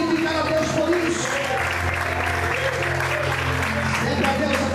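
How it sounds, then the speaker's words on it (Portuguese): A church congregation applauds steadily throughout, a dense, sustained wash of clapping with a low musical drone or organ underneath and some voices mixed in. "Você pode aplaudir e glorificar a Deus por isso."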